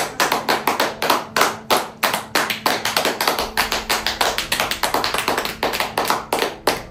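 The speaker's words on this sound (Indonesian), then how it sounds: "Boleh beri tepuk tangan semuanya?" Clapping at a school farewell event fills the space with dense, rhythmic claps throughout. They sound close and steady for several seconds with no talk over them.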